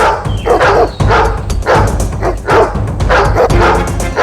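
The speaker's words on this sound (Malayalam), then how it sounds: "വേട്ട നായ്ക്കളെ കൊണ്ട് നായാട്ടുകാർ എത്തിയിട്ടുണ്ടെന്ന് തോന്നുന്നു" Hunting dogs bark in a cartoon forest scene, loud, close and repeated in quick, uneven bursts with yips mixed in.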